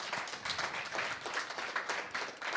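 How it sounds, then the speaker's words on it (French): Audience at an entrepreneurship panel debate on crowdfunding claps for the speakers, a dense, steady wash of applause throughout, moderately loud with no clear talk. "Vous pouvez les applaudir,"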